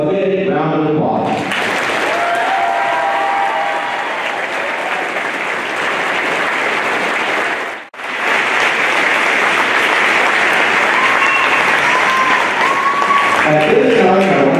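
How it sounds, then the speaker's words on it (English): A large crowd at a Florence Senior High School graduation gives the seniors long, loud sustained applause with some cheering, briefly dipping midway before swelling again, with a voice speaking at the start and end. "let's give these seniors a big round of applause."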